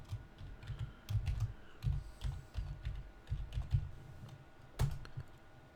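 Someone types a root password on a computer keyboard, quick bursts of soft, close key taps in an uneven rhythm with a sharper clack near the end.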